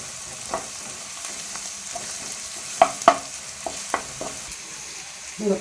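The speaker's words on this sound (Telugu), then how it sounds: "ఇక ఒక చెంచా అల్లం పేస్టు కొంచెం పచ్చి వాసన పోయిన దాకా వేసుకోవాలి కొంచెం వేగుతుంది" Ginger paste fries in a pan for a Telugu egg and drumstick curry, giving a soft steady sizzle broken by a few sharp scraping stirs and clicks of a spoon.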